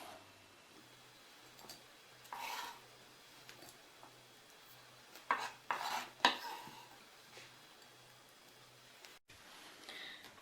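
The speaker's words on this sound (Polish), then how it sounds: "I te pokrojone śledzie wrzucę teraz do miski." Chopped herring is dropped into a bowl in a kitchen, giving quiet scattered clinks and soft dull knocks with spoon and bowl scraping in between, faint and close, with no talking.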